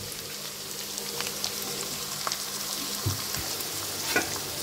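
Boiled sweet corn hits a hot frying pan alongside peas, giving a steady sizzle with a few stirring scrapes and clicks, close and moderately loud, with no talking.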